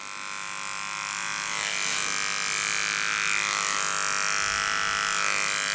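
Electric clipper trimming around the tail base of a poodle, a steady close buzzing hum that runs continuously and loud throughout, its tone shifting slightly as it moves over the fur.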